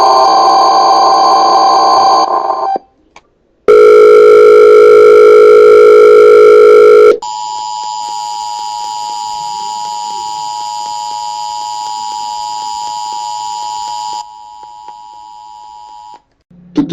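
Emergency Alert System tones in a parody broadcast, loud harsh two-tone attention blasts followed by a long steady high alert beep, with short silent gaps between the sections.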